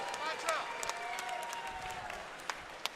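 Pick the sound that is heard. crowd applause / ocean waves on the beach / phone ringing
crowd applause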